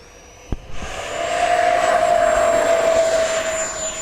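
An FMS Avanti V3 70mm RC jet spools up on a runway and takes off, a rising whine growing from a click into a loud steady jet roar nearby, alone without talk.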